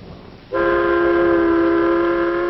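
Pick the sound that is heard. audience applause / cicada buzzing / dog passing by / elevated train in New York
elevated train in New York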